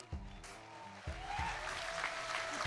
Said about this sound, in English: So give it another cheer for Martin Knight.